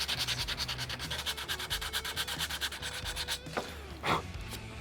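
Sandpaper of 120 grit rubbing along the grain of a wooden board in steady, rapid back-and-forth strokes, close and fairly loud, with a few brief scuffs near the end.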